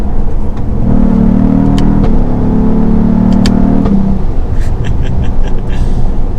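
A 2022 Cadillac CT4-V Blackwing sedan accelerating hard, loud engine roar rising in pitch through a gear with a brief shift dip, close and dominant with road rumble beneath.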